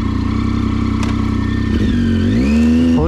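A motorbike engine in first gear on a dirt road revs steadily from a low idle chug, then climbs sharply in pitch near the end, heard close up and loud with no voices.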